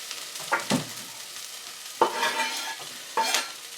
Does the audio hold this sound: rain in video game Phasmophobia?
no